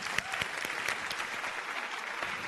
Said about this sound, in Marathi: त्यासाठी एकदा झी युवा संगीत सम्राटसाठी जोरदार टाळ्या